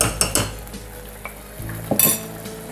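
Spices, garam masala, coriander powder and cumin sauté in a pan for beef kofta curry, with a quiet sizzle under a few scraping, clinking stirs of a metal utensil against the pot. The sound is close, and no one speaks.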